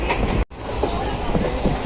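The Uttarbanga Express rolls through the night from Sealdah toward New Coochbehar with a loud continuous rumble and faint wheel clatter, broken by one brief dropout, heard close from inside the carriage.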